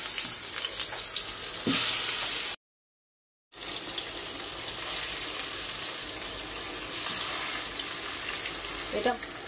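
Chicken pieces sizzling in very hot oil in a wok, a steady broadband hiss running throughout with a brief gap midway and a short splutter near the end, close and moderately loud with no speech.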